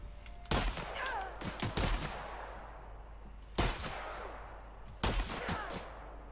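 Gunfire from a gun in The Outer Worlds, loud sharp shots fired in quick bursts of several rounds, separated by short pauses with ringing decay between volleys.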